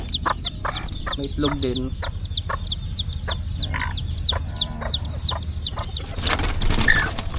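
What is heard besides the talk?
Chabo bantam chickens clucking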